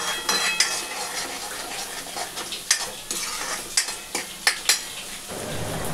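Paneer frying in a pan, a continuous sizzle broken by several sharp clinks and scrapes of a utensil against the pan, close and fairly loud with no talking.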